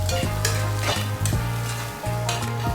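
A spoon scrapes and stirs turmeric powder in a hot frying pan, with a steady sizzle of frying underneath and a few louder metallic scrapes at regular intervals, close and clear.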